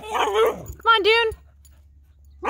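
A Ridgeback or Cocker Spaniel dog gives a short burst of high, whining yips and a whimper, close by, between stretches of a person talking.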